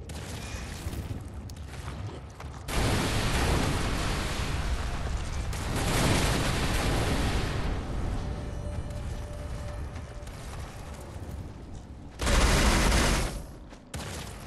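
Loud bursts of booming explosions and rapid gunfire-like blasts from the video game Dead Island 2 come in heavy waves, surging and fading with brief quieter gaps between them.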